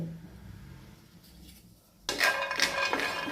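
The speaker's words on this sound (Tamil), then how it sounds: "இந்த மக்கான் ஒரு அரை கப் இருக்குது அதையும் சேர்த்துக்கிறேன்" Half a cup of makhana (lotus seeds) tips into a bowl for healthy laddu. A soft lead-in gives way to a sudden, dense, bright rattle that runs steadily to the end, close and without speech.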